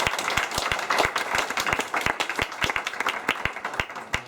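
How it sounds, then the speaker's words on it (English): Audience applause closing a talk at a London DevOps meetup: sparse, uneven claps from a modest crowd, individual hand claps standing out as sharp separate hits over about four seconds, with no voices. "A big round of applause."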